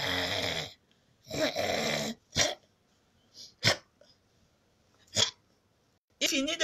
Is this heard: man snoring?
yes